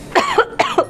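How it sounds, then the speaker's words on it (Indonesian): A person coughs during a talk-show style conversation. Two or three sharp, loud coughs come close together, near and alone with no talk over them. "Saking semangatnya gue sampai batuk."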